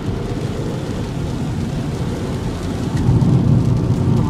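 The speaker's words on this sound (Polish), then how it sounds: "pada, pogoda jest straszna" Heavy rain hammers on a car, heard from inside as a dense, steady roar with deep rumbling underneath that swells louder toward the end.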